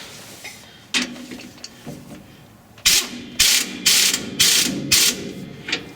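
A ratchet tightens a bolt on the rear shock absorbers of a 1961 Ford F100. A few scattered clicks lead into several loud, close bursts of rapid ratcheting with short pauses between them.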